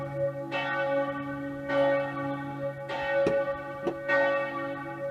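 Church bells ring out in slow, repeated dongs, each strike ringing loud with a long sustained hum between them, heard outdoors in France or Spain on a motorcycle tour.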